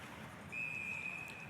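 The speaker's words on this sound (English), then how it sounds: "we're going to get a whistle as the Checkers come in offside" A referee's whistle in an AHL ice hockey game blows one steady, sustained blast to stop play for offside, clear and fairly prominent over low arena ambience, with no talk.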